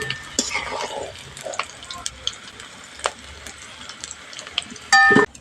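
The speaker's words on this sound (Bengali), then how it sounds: "এই তেলের মধ্যেই এঁচোড়গুলো ভেজে নেব।" Green jackfruit pieces frying in hot oil in a kadai give a faint, steady sizzle, broken by scattered clinks and scrapes of a utensil and a louder metallic scrape near the end.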